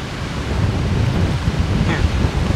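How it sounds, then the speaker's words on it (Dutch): Fairly strong wind at a marina in Zutphen buffets the microphone with a loud, gusty rumble over a couple of seconds. "Best wel een behoorlijk windje."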